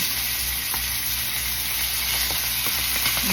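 Steaks sear in a hot pan just after being flipped, giving a steady, loud, close sizzle and frying crackle with no voices over it.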